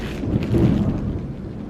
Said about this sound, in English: Did you guys hear the thunder?